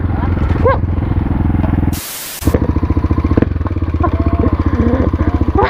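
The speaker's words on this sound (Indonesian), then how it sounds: "Pagi-pagi cuci motor." A motorcycle is washed with a pressurised water spray, an engine-like pulsing rumble running under a steady hiss, with a brief loud burst of spray partway through; a voice is heard in the mix.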